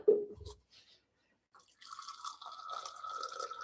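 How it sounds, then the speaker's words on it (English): Water dripping and then running in a steady thin stream, close by and quiet, with a brief pause before the flow starts. "Getting some water."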